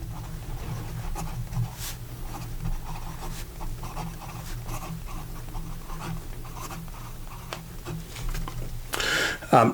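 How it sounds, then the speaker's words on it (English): Scratchy strokes of a Wancher Dream fountain pen with an 18 karat gold nib moving across paper, soft and close, with a steady low hum underneath and a brief louder rustle near the end. "So here we go with the writing sample."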